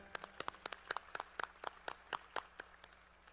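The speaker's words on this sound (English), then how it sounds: "Let's give a round of applause to the honoree from the Division of the President." Sparse applause for an honoree at a service recognition celebration, quiet and distinct claps from a small number of people, irregular and gradually thinning out.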